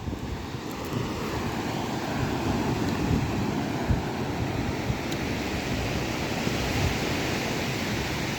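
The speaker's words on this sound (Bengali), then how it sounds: "এই যে ঢেউ, এই ঢেউ আসতেই আছে, এর কোনো কমতি নাই।" Steady roar of sea waves washing onto the beach at Cox's Bazar, continuous and fairly loud, with wind noise buffeting the microphone and no voices.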